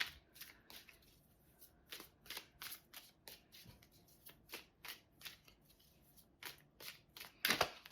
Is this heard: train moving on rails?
no